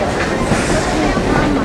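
A heritage railroad train on the Tweetsie Railroad slows to a stop in wooded wilderness, with loud, continuous rolling rumble and clatter of wheels on the rails close by, a voice talking over it.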